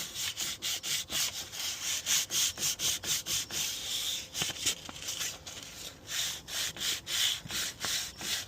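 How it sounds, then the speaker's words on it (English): Steady back-and-forth scrubbing of 320 grit sandpaper on a flat piece against the metal mating surface of a 1990 Toyota Dolphin motorhome driveshaft, about two rough rasping strokes per second, close and moderately loud, with brief pauses between runs. "I ended up using some 320 grit on a little flat piece here"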